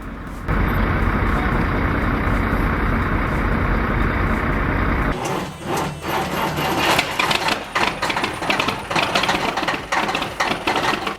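A heavy Caterpillar 3406B diesel engine cranks over and catches, settling into a loud, rough, rumbling run with uneven chugging.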